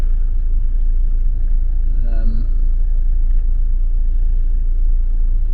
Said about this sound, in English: Now I'm driving away very slowly